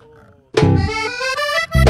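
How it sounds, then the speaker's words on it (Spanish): Vallenato music played at a virtual home patio party, bursting in loud after a quiet lead-in with dense harmonic accordion-like tones and a strong low beat, with a heavy accent near the end. "El vallenato suena así."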